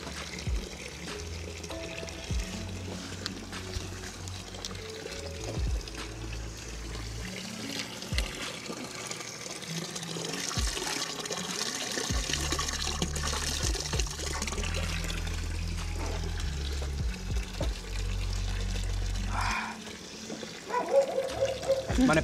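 Fresh water runs and trickles at an outdoor drinking spot for animals in Switzerland, a continuous splashing flow heard up close that swells and dips over time.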